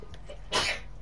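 A single sneeze-like burst, loud and broadband, bursts out about halfway through, alone against low background hum, short and sharp with a breathy tail.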